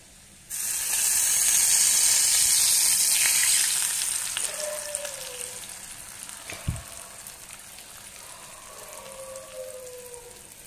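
Maggi noodles stirred by hand in a hot pan, opening with a loud burst of hissing sizzle that fades gradually into quieter frying, with occasional scrapes and a dull knock near the end.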